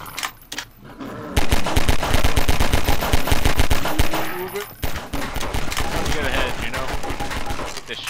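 A shotgun fires repeatedly in a Garry's Mod horror mission amid sustained, dense gunfire, loud and continuous with rapid overlapping blasts, with no talking.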